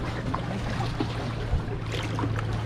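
Paddling a small boat on the sea off Gurzuf, Crimea, near the Artek camp: steady close water splashing and sloshing with a low engine-like hum underneath and no speech.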